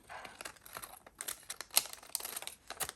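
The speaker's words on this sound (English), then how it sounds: "So I could just cut off the flap." Scissors snip the flap off a crinkly glassine envelope at a junk-journal crafting desk, giving a quiet, close series of papery clicks and crinkles in an irregular rhythm, with no talking.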